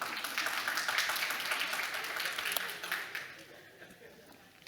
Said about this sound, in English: I wasn't expecting the clap at that